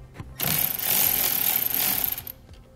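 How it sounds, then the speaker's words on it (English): A 14 mm socket on a ratchet or power tool loosens the battery cable nut on a 2018 GMC Sierra 2500, giving a loud, rapid buzzing rattle that lasts about two seconds with no talk. "you're going to want to grab a 14 millimeter socket and remove the nut holding that cable on"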